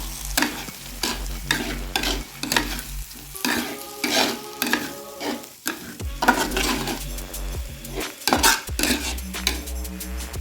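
A garam masala mixture being stirred in a pan for prawn curry: a continuous sizzle broken by repeated metal spoon scrapes and clinks against the pan, close and fairly loud, no voices.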